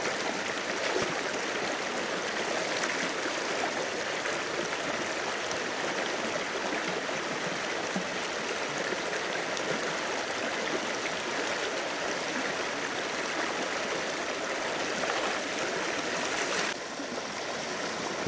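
A river stream flows over rocks beside a rock face, a steady, full rushing and gurgling of water that stays constant and close throughout, with no talk.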